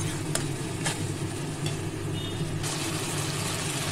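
Onion paste and ginger-garlic paste fry in a pan for a catla fish kalia, giving a steady broadband sizzle over a continuous low hum, with no talking.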